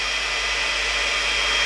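A GHD Duet Style hot-air straightener blows continuously, a loud, close, even airflow roar with a steady motor whine and no pauses.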